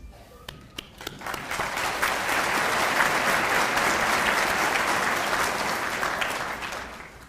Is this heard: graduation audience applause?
yes